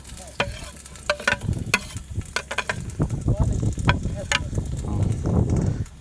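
Onions frying in ghee in a pot outdoors, a loud close sizzle with sharp crackles and scraping stirs, continuous and building, with faint voices in the background.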